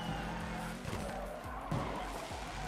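Car tires skidding and squealing through a drift in the open-world racing game OverDrift Festival, continuous engine roar with repeated skid swells at moderate loudness, no talking.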